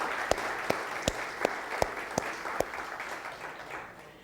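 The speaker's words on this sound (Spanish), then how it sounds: "vamos a dar un aplauso y celebrar esta mañana lo que el Señor está haciendo" A church congregation applauds together at a Sunday morning service, with a steady wash of clapping and several sharper claps standing out at a regular beat before the applause tapers off.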